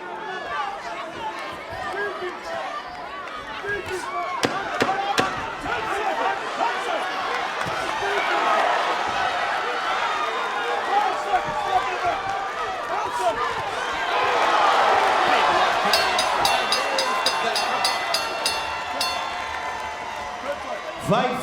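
A large boxing arena crowd in Washington, D.C. cheers and roars continuously, swelling louder toward the end, with scattered sharp claps and a voice talking over it.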